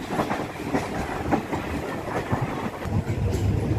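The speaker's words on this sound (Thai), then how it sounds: "ตอนนี้เราอยู่ที่ ขบวนรถธรรมดาที่สองหกหนึ่ง" A Thai ordinary passenger train, number 261, hauled by a Hitachi locomotive, rumbles along steadily, wheels clacking rhythmically over rail joints with a constant roar of carriages, heard from inside or close by.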